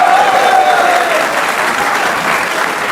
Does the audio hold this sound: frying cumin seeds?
no